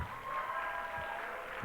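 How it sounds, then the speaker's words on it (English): An audience at a talk on girl-child menstruation claps steadily for a young man, a moderate wash of hand claps filling the room without pause. "Please clap for him."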